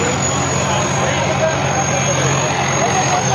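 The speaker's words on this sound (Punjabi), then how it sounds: "ਟਰੈਕਟਰ ਆ ਗਿਆ ਬਾਈ ਜਾਲਮ ਟਰੈਕਟਰ ਸੋਨਾਲੀਕਾ 60 ਦਾ" A loud Sonalika 60 tractor engine drones steadily at close range during a trolley-pulling contest, a constant low rumble with a thin high whine over it.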